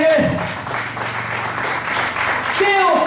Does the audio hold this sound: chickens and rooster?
no